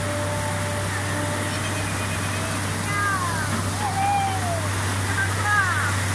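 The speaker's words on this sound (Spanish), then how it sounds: "Así se viene el agua con toda." Strong river water rushes in a steady, loud roar at a site of an artificial landslide, with voices calling out over the torrent.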